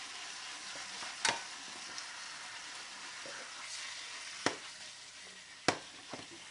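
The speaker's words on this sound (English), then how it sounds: "Keep frying that some more." Low, steady sizzling of sirloin steak and noodles frying in a pan, broken by a few sharp scrapes or clanks of a utensil stirring the food.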